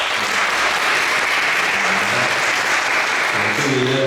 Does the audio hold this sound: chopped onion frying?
no